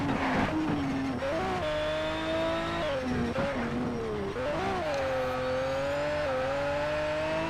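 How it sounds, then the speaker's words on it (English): A Lamborghini engine in the racing video game Need for Speed: Shift 2 Unleashed, droning loud and steady with pitch climbing and dipping through gear shifts, with no voices over it. "See, this Lambo has a controlled sound"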